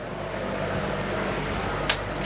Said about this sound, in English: That's the air conditioning just kicked in.